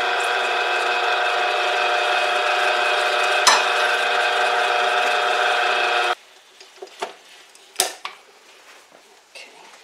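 A spoon stirs chopped nuts into the topping for Betty's sour cream coffee cake, heard as soft scrapes and light clicks against the bowl after a steady, loud hum cuts off partway through.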